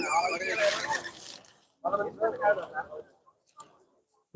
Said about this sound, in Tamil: இந்த குதிரையெல்லாம் மன்னார்குடி ஏரியாலிருந்து வந்திருக்கிறது